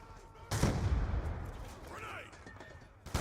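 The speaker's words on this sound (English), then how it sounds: "Frag out!" A frag grenade goes off in the shooter game Call of Duty: Black Ops 2, a sudden loud blast followed by a rumbling, fading tail and faint game sounds afterward.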